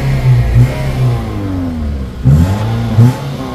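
A Toyota Yaris E with an automatic transmission revs its engine in a few short bursts during a test drive, and each rise and fall of engine pitch is loud and close.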